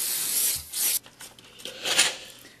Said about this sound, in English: this is just a can of spray starch